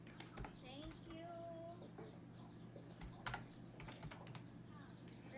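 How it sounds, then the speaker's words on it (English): Birds chirp faintly in the background of a live stream, thin whistled calls scattered over a low steady hum, mixed with clicking keyboard typing and occasional soft clucking sounds. "you can hear birds chirping in the background"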